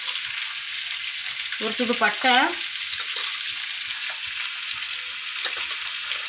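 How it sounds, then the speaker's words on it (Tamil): Spices such as cinnamon, star anise, cloves and fennel hit hot oil while tempering for tomato rice, giving a steady close sizzling hiss throughout. A voice speaks briefly in the middle. "இப்போ வந்து தக்காளி சாப்பாடு தாளித்து விட்டுறலாம்"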